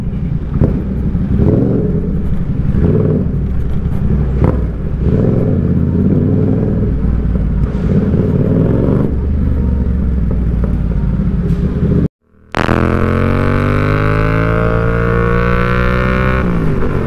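Heavy road traffic of cars and motorcycles in an underpass in Davao, a loud, continuous rumble of engines with passing vehicles, then a brief cut and a rising engine whine.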